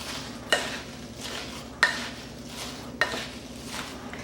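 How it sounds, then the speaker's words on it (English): Apple cranberry pie filling gets stirred with salt and melted butter in a bowl, with three sharp clinks of a utensil against the dish spaced about a second apart between soft scraping swirls, close and alone. "Now I'll just mix this all together."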